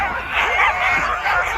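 Dogs bark and yip in quick, high, overlapping calls over a steady background hiss, mixed with a voice talking, at moderate loudness.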